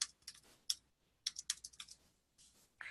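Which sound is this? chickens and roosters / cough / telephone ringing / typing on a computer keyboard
typing on a computer keyboard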